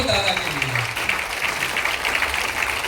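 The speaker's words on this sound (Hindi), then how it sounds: "मिस्टर अरविंद जायसवाल पे जोरदार ताली होना चाहिए दादा, दोनों दादा के लिए" An audience claps loudly and continuously at a motivational speaking event to honor senior colleagues, with a voice calling out over the steady applause at the start.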